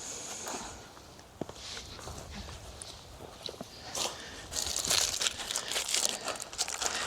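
Parchment paper wrapped around bee fondant crinkles and crumples as it is handled on top of a beehive being prepared for winter, with soft rustling that grows louder and busier toward the end.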